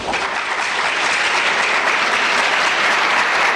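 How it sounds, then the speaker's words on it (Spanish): An audience bursts into warm, continuous applause after a scientific presentation on conditioning the immune system through the mind. The clapping is dense and fairly loud, with no speech over it. "Sus descubrimientos fueron recibidos con aplausos amables"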